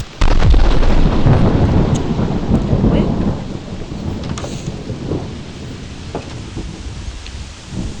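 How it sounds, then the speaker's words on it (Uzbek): Heavy rain and rolling thunder in a video game, a loud crack of thunder at the start fading into a steady downpour that continues alone without talk. "Yana yomg'ir."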